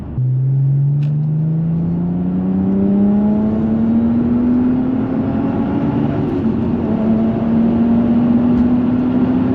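A quick car with a modified exhaust, its rasp removed but with more drone, accelerates close by, producing a steady, loud, low droning tone that climbs gradually in pitch, with no voices.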